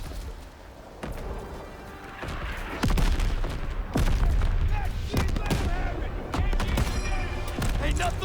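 Heavy gunfire in the World War II shooter game Call of Duty WWII: dense, continuous bursts of rifle and machine-gun fire with booming impacts that grow louder and more sustained after the first few seconds.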